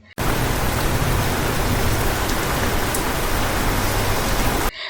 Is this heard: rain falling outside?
yes